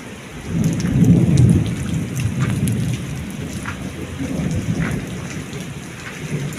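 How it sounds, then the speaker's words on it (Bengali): A night rainstorm: steady heavy rain pours onto surfaces, with a deep rumble of thunder swelling early on and fading into the continuous downpour. "দেখতে পাচ্ছেন রাতের আবহাওয়া রয়েছে বৃষ্টির সাথে"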